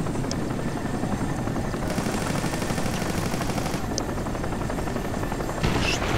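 Helicopters fly over a Crysis multiplayer match, a steady loud rotor drone filling the whole stretch alongside game noise, with a few sharp cracks that may be gunfire.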